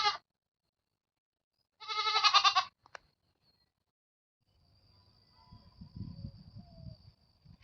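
Young goats left behind after their mother was sold give two clear bleats, one brief and one longer, then quiet; low indistinct rustling and murmur follow near the end.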